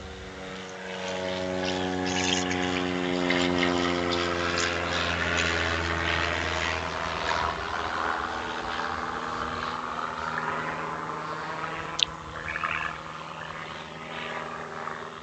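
A propeller airplane takes off nearby on a runway flight path, its engine drone loud and rising then shifting in pitch as it passes and fades, with a brief click near the end.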